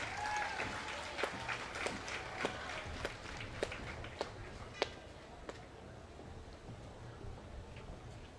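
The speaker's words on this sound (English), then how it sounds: "Let's give them a round of applause." Audience at a school STEAM fair awards ceremony applauding the winners, a thin, steady patter of scattered claps with a few sharp louder smacks standing out over a low room murmur.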